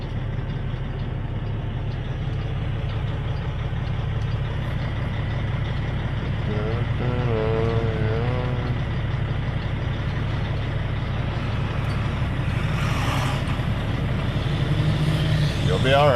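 A Volvo truck draws near on a mountain highway in southern BC, heard from inside a truck cab over a steady engine drone and low road rumble, with people talking over it.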